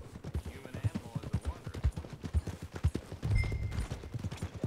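Horse hooves in the video game Red Dead Redemption 2, a quick rhythmic clip-clop of a galloping horse, close and fairly loud, with a snorting, rumbling surge near the end and game ambience behind.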